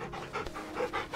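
A dog in a video game pants in quick, rhythmic breaths, close and clear, over a short moment.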